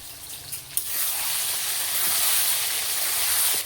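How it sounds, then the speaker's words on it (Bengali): Water poured into a pan of chicken curry with potatoes for gravy: a loud, close hissing splash starts after a brief quieter moment and keeps pouring steadily to the end, no talking. "এখন মাংসটা আমি জল দিয়ে দিব।"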